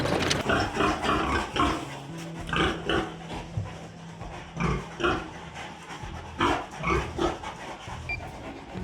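Pigs grunt and squeal in short, irregular bursts, several animals nearby, with quieter stretches between the calls.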